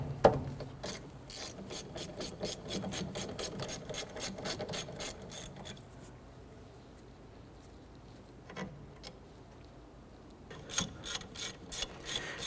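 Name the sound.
ratchet removing brake caliper bolts on Chevrolet Impala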